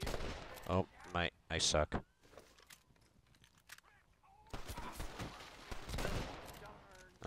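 Gunfire in the Red Dead Redemption video game, a burst of sharp shots early on followed by quieter scattered pops and a louder stretch of rapid shooting, with someone talking briefly between them.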